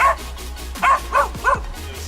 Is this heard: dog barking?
yes